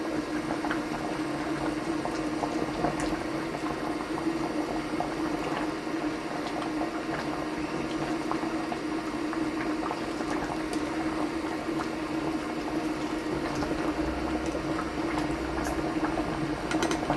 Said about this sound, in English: want this to boil for about an hour